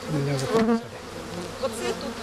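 Honeybees buzz and hum loudly nearby, their droning wavering in pitch as individual insects fly close past.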